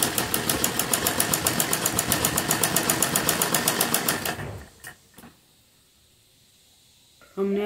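A sewing machine stitches palazzo fabric pieces in a fast, even mechanical chatter of rapid needle strokes for about four seconds, then stops, leaving near silence with a couple of faint clicks before a brief burst at the end.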